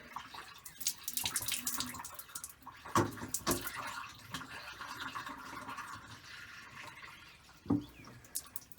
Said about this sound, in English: I'm going to start putting more water in it